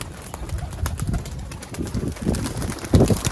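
Pigeons coo in low, soft bursts, several overlapping calls swelling and fading, with a louder coo near the end.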